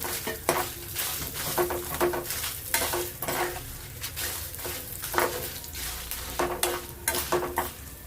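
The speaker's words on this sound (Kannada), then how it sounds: "ಚೆನ್ನಾಗಿ ಫ್ರೈ ಆಗಲಿ" Byadgi chilies frying in a pan, with a continuous sizzle broken by repeated scraping and clinking as a spoon stirs them against the metal, close and steady.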